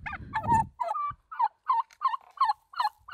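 Turkeys gobble in a run of about ten rapid, rattling calls close by, loud and evenly spaced, with a brief rustle at the start.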